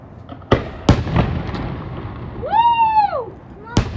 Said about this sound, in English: All that fireworks is not cheap.